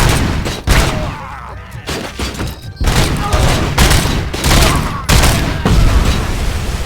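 RoboCop: Rogue City erupts in loud, sustained gunfire as a dense fusillade of rapid shots and booming impacts fills the clip. Shouted voices come in and out of the din.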